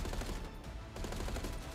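Rapid shots from a Makarov pistol in Call of Duty: Black Ops 6, a quick string of close, punchy reports in uneven rhythm, fairly faint overall and with no voice over them.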